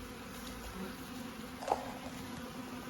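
Honeybees robbing and fighting at a hive make a faint, steady insect buzz that hums continuously in the background with one slightly louder passing buzz, and there is no talk.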